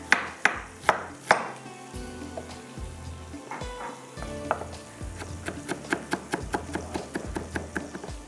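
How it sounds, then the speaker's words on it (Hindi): Knife finely chopping ginger on a board while making beef bhuna qeema, sharp close knocks coming in a few spaced strikes, then a quicker steady rhythm of lighter taps. "थोड़ी सी अदरक बारीक काट लेंगे"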